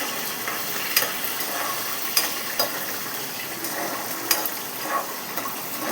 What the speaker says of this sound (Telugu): అది కూడా పచ్చిమిర్చి కూడా కొంచెం ఫ్రై అవ్వాలి.